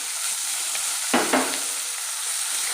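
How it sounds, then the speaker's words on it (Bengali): Chopped onion and green chili frying over a low flame in a pan with chicken give a steady, close sizzle. Two brief stirring clatters sound near the middle, and no one speaks. "এবারে গ্যাসটা একটু লো ফ্লেমে করে দিয়ে এই যে পেঁয়াজ আর কাঁচা লঙ্কাটা যে কুচিয়ে রেখেছিলাম এর উপরে দিয়ে দেবো।"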